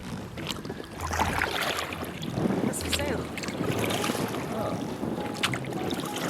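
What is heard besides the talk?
rowing a small boat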